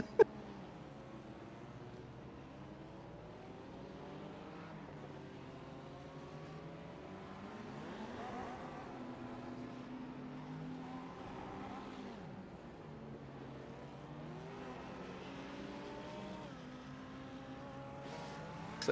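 Race cars in iRacing's Daytona 24 Hours rev and spin their wheels in burnouts. Several engine tones rise and fall and overlap at a low, fairly distant level, with no talking.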